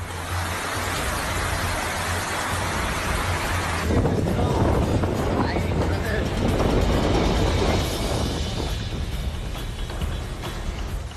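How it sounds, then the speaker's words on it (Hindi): Heavy rain pouring down in Turin, Italy, a dense loud continuous wash of water and wind-like roar that swells slightly partway through, with no pause in the downpour. "तुरीन शहर में बर्बादी की बारिश का ये वीडियो देखिए।"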